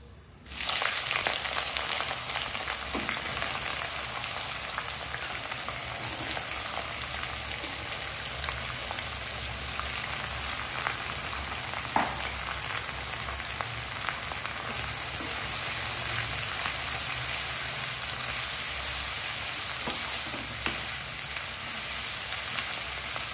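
Whole garam masala spices, cumin seeds and onions frying in a generous amount of mustard oil, a loud steady sizzle that bursts in at once and crackles continuously with occasional pops and stirring scrapes.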